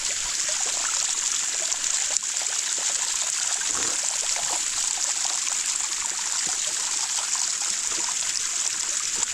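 A raw mountain waterfall stream rushes and trickles steadily nearby, a continuous loud wash of water with no voices over it.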